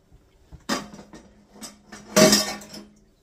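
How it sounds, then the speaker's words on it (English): Dishes are set down in a kitchen sink, giving several sharp clatters and clinks of crockery and cutlery at irregular intervals, with a louder cluster near the end, close by and with no talk. "Let me put this in the sink."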